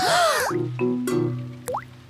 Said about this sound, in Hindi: डैडी पिग बूंदें इकट्ठा करने के लिए बाल्टी का इस्तेमाल कर रहे हैं।